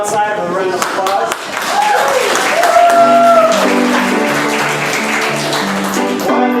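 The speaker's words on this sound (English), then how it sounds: "let's send them outside with a round of applause." Applause from a live comedy improv audience, steady clapping rising after a brief dip and continuing over a sung or musical tone, with voices present.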